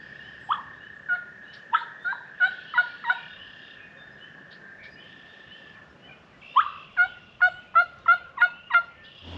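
Wild turkey toms gobble outdoors in the woods, a cluster of loud rattling gobbles followed after a short pause by a faster run of repeated gobbles, fairly close and clear against quiet surroundings.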